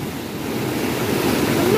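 A flooded river near Chaibasa, swollen by heavy rain and released dam water, surges over a submerged bank with a loud continuous roar, mixed with wind buffeting the microphone.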